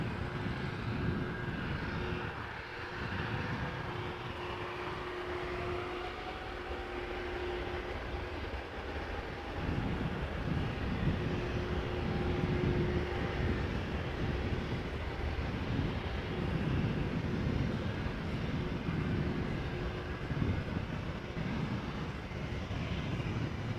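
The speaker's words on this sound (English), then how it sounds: "Airplanes landing on Polderbaan will now be coming this way" Airliners landing on the Polderbaan runway at Amsterdam Schiphol pass close by, a broad jet rumble that swells and recedes with faint tonal whines, steady for the whole span without speech.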